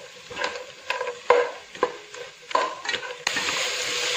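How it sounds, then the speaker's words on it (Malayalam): Vegetables and cashews for vegetable pulao are stirred in a pan, with a spoon knocking and scraping at irregular intervals over a soft sizzle that grows louder and steadier at the end. "2 മിനിറ്റ് നന്നായി ഇളക്കി കൊടുക്കുക."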